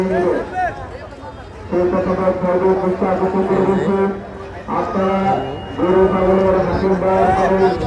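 Cattle moo repeatedly at a busy cattle market in long, loud, drawn-out calls, several animals overlapping with a crowd murmuring in the background.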